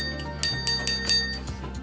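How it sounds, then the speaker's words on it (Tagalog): A spring bell fitted to a newly assembled mountain bike rings in four quick, close, loud dings over a steady ringing background, with no voices. "Meron siyang spring bell,"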